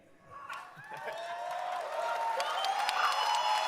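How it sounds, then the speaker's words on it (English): A large crowd at Gamescom Opening Night Live 2023 breaks into applause and cheering, swelling from a few claps into a broad, sustained roar that keeps building to the end. "Wow, what a great crowd."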